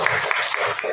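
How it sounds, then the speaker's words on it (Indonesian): Applause in a school gathering at a senior high school in Garut, Indonesia: a short burst of clapping from a group, steady and fairly close, lasting about a second. "Tepuk tangan untuk semuanya"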